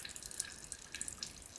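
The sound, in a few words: oil dripping from Toyota FJ Cruiser part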